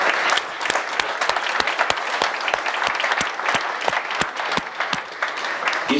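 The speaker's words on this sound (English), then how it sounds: "you should really applaud him" An audience claps for a conference attendee, loud and close, with individual sharp claps standing out in a fairly regular beat over a continuous bed of clapping.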